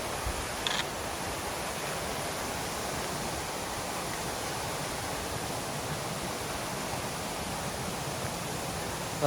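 Cripple Creek pours over a small waterfall on the Appalachian Trail, giving a steady, even hiss of rushing water close by with no other sounds.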